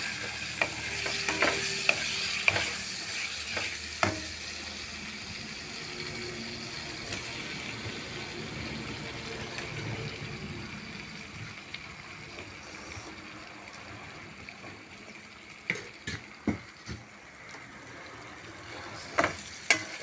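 Beans, brinjal and potato frying in spices in a pan, with a steady sizzle and repeated scraping stirs, sharper clacks of the spoon near the end, close by and with no talk.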